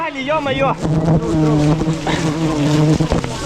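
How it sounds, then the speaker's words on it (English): Swarm of wild bees buzzing around a large hive on a tree, a loud, close, continuous droning hum that wavers in pitch as insects fly past. "They're buzzing so loudly."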